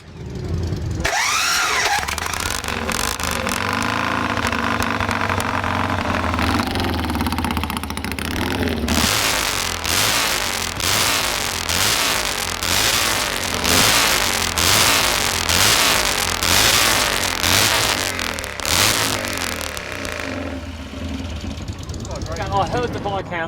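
A Viscount British motorcycle engine, TT Heritage, cranks and fires, then revs in sharp repeated bursts, loud and close, with voices talking over the opening seconds.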